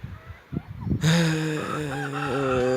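A rooster at a backyard henhouse lets out one loud, close crow that swells suddenly and holds for almost two seconds, following a few soft clucks and rustles.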